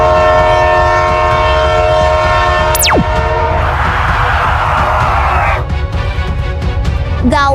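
A video game's anomaly train rolls past with a loud, continuous rumble and sustained horn-like tones, a rapid descending swoop partway through, then a hissing burst and rhythmic clatter, close and dominating throughout.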